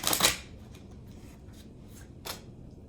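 Tarot cards being shuffled by hand during a Celtic cross reading: a quick riffling burst at the start, then faint scattered card slides and a second brief flick near the end, quiet and close with no talk.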